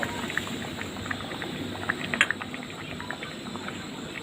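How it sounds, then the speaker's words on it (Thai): Thai khilek curry with pork belly boiling in a pot, a soft continuous bubbling with scattered small pops and blips, fairly close and low in level, with no talking. "เดือดเข้ากันแล้ว"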